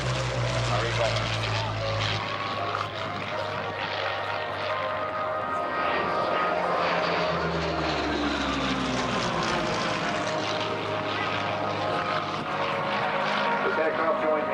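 A Hawker Hurricane fighter flies past with a steady propeller engine drone that swells and fades across the pass, while a commentator talks over it throughout.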